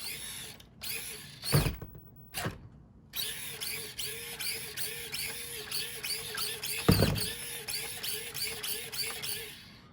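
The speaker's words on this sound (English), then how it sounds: "with the stock electronics, stock motor, everything. And if I go back here, and here's full throttle." A small Axial SCX24 Jeep Gladiator RC crawler with its stock motor runs at full throttle, giving a steady high-pitched electric whine with rhythmic pulsing, near and moderately loud, broken by a few sharp knocks.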